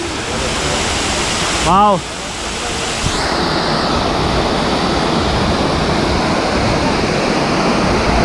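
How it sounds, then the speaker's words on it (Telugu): Small waterfalls in Munnar, Kerala, a constant loud rush of falling water with wind buffeting the microphone, a brief exclamation from a voice partway through and a short whistling sweep after it. "ఏదో తెలియదు కానీ చిన్న వాటర్ ఫాల్స్ దగ్గరికి అయితే వచ్చేసాం లాస్ట్ ఫైనల్లీ."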